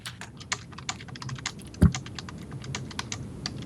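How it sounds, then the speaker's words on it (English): Rapid, irregular clatter of typing on a computer keyboard, the keystrokes crisp and close with a single heavier thump partway through; no one speaks. "Are you typing your love note for Sheila?"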